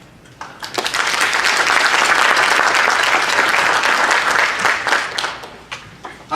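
Audience at a 2018 candidate forum in Childress breaking into loud, dense applause that swells within a second, holds steady, then thins out into scattered claps.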